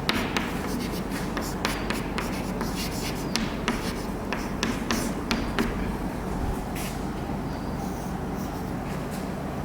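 C code is handwritten with a pen, producing steady scratching strokes and quick taps in an irregular rhythm, close and clear, with no voice over it.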